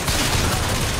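Rapid gunfire in the video game Bioshock Infinite, a dense, continuous burst of shots that fills the whole moment at steady loudness.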